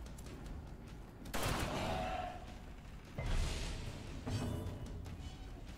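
A grape shot attack in the video game Darkest Dungeon lands as a burst of gunfire blasts with whooshing impacts, followed by two more loud bursts over a continuous game backdrop.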